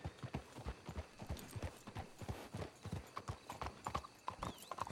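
Horses in the video game Red Dead Redemption 2 trot in a steady stream of clip-clopping hooves with a brief whinny, rhythmic and fairly quiet, with no voices.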